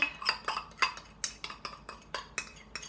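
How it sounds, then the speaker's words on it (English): Spoon scraping and clinking around a big mixing bowl while yeast mixture for challah is stirred, a steady series of about ten sharp close knocks at a brisk rhythm, no voices. "Stir it all up."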